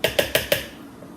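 A measuring cup scoops peanut butter from a fresh jar, giving four quick, evenly spaced scraping knocks close up, followed by a brief quiet tail.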